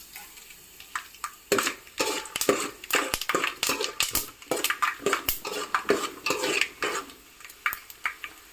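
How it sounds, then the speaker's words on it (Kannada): Peanuts hit hot oil in a pan for avalakki poha, producing a busy run of sharp clatters, scrapes and metal-on-pan knocks over a light frying sizzle, close and fairly loud. "ಇವಾಗ ಇದಕ್ಕೆ ನಾನು ಮೊದಲು ಶೇಂಗಾವನ್ನು ಹಾಕ್ಕೊಳ್ತಾ ಇದ್ದೀನಿ"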